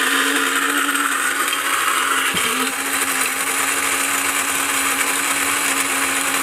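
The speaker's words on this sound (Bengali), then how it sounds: "এটা একটা মগ ব্লেন্ডার" A 1200-watt mini grinder mug blender runs loud and steady throughout, a dense continuous motor whine with a brief dip in pitch partway through, and no voices over it.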